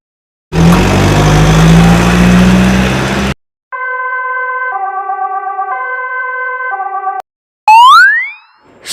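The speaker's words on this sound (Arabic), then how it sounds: "سيارة الإسعاف." An ambulance siren alternates between two tones in a regular hi-lo pattern for about three seconds. It follows a rumbling engine and ends with a springy boing effect. The siren is loud and close, with no voices.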